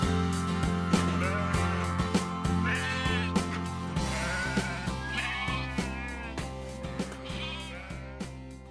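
Sheep and ewes raised for wool bleat repeatedly on a farm, several wavering calls rising over a steady low hum and a rhythmic series of soft knocks.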